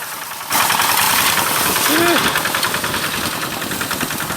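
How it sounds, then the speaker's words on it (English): A Landmaster two-wheel tractor engine runs close and loud, chugging with a steady rapid knock while driven over a crop of soya beans to shell them in Sri Lanka, with a brief squeaky whine partway through. "This farmer is shelling his crop of soya beans using his Landmaster tractor."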